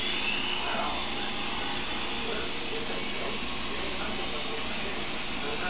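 A small toy helicopter bought at a gas station whirs indoors near a refrigerator, a steady buzzing drone held close and unbroken, with faint voices underneath.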